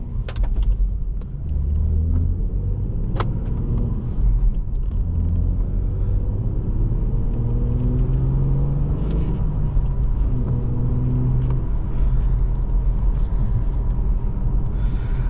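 A 2009 Infiniti G37S's naturally aspirated 3.7-liter V6 rumbles loud and steady with deep harmonics rising and falling as it revs through a 6-speed manual's gears, a continuous close-up drone.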